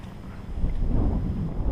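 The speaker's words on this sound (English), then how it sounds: "This wind's gonna beat the death of me today." Wind buffeting the microphone while kayak fishing on open water, a steady low rumbling roar throughout with no talk.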